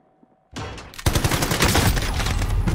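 AK rifle fire in the battle royale game Call of Duty: Warzone, a sudden loud volley of rapid shots after a near-silent start, continuing in dense bursts.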